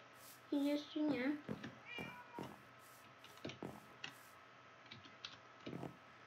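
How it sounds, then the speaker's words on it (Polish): A cat meows in a video game village, several short close meows clustered near the start, over a soft ticking background with scattered clicks and a voice talking in between. "ten kot jest dziwny"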